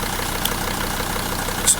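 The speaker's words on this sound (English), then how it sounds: "I'm just going to run the engine for 1 minute" A car engine idles steadily during a coolant flush, an even low rumble heard up close with a couple of faint brief clicks and no talking.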